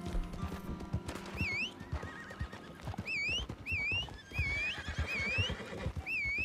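A horse in Red Dead Redemption 2 gives several shrill, wavering neighs and whinnies over a steady clip-clop of hooves, fairly close and clear, with no voices.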